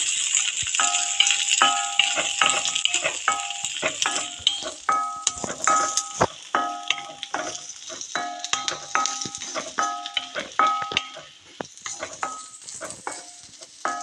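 Shallots and dried red chilies frying in oil in a pan for onion chutney, a steady sizzle throughout with rhythmic scraping and clinking of a spoon stirring, close and fairly loud, no talking.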